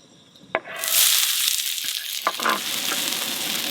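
Onions hit a hot camp griddle with a sudden loud burst of sizzling that settles into a steady hiss, broken by a few scraping spatula clicks.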